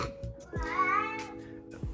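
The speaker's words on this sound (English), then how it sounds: "You're meowing now, huh?" A cat meows in a drawn-out, rising call near the microphone, framed by short thumps and low handling noise in an indoor room.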